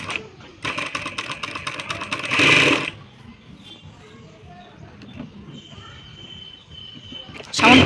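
A sewing machine stitches a neckline seam on nightie fabric in a short, fast, rattling run, then stops. Quieter handling sounds and a faint voice follow.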